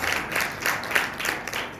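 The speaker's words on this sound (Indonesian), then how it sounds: "Tepuk tangan dulu buat Tuhan Yesus." A church congregation claps together in a continuous, moderately loud patter of many hands with slight swells, with no voice over it.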